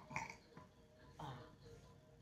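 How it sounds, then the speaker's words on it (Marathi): A small child burps once or twice during a quiet home scene, short soft eructations with a voice nearby. "ढेकर आला, पाणी देऊ?"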